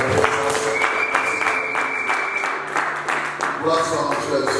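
Church congregation applauding and cheering during a French-language service, a dense sustained burst of clapping mixed with voices and shouts throughout.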